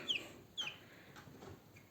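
A young rooster chick, weighed on a home farm, gives two sharp high cheeps near the start, then softer scattered peeps and faint clucks, close and quiet.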